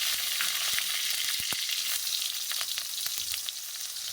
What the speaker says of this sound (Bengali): তেলটা গরম হয়ে গেছে, উপর থেকে পাঁচফোড়ন দিয়ে দিলাম। এই যে টমেটো কেটে রেখেছি, টমেটো দিয়ে দিলাম।